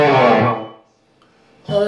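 Distorted electric guitar playing part of the Holy Water solo by Bad Company in fifth position, a sustained note fading to near silence before another strike, close and alone.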